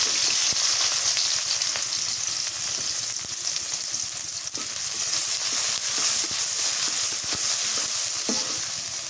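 Chopped onion fries in oil for a rohu fish and potato curry, cooked in a village setting: a loud, continuous close sizzle with scattered crackles and occasional stirring knocks, with no one speaking.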